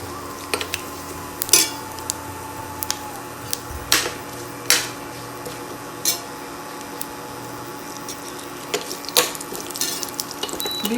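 Bay leaf, cinnamon stick, green cardamom and cumin seeds sautéing in hot oil in a pan, a low steady sizzle broken by clinks and scrapes of a spoon against the cookware at irregular intervals.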